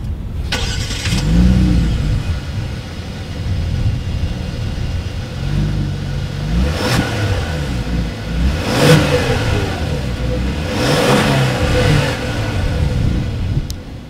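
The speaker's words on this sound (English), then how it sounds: "As always, here is that exhaust clip." A 2019 Genesis G80 Sport revs repeatedly through its exhaust, three or four sharp throttle blips rising over a deep, rumbling idle, close and loud with no talking.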